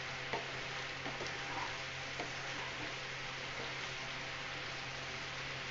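Chicken for a Maharani chicken curry fries in a pan over a gas flame, a steady soft sizzle with occasional light scrapes of stirring, heard alone and fairly quiet.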